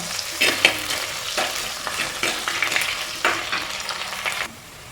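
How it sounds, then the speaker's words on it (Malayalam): Ginger and a few large garlic cloves fry in hot oil for Kerala-style chicken roast, giving a steady crackling sizzle broken by scraping stir strokes. The sound stays fairly close, then softens near the end. "ഇഞ്ചി വെളുത്തുള്ളിയൊക്കെ മൂത്ത് വന്നിട്ടുണ്ട്"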